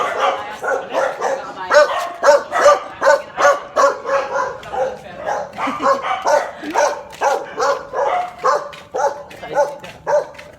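A dog barks over and over in a steady rhythm, fairly close, with a few voices talking faintly beneath it.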